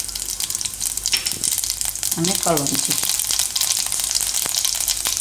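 Carom seeds (ajwain) hit hot oil, with the gas already switched off, for Gujarati radish muthiya. A steady, close, crackling sizzle runs the whole time, with a few brief spoken words partway through.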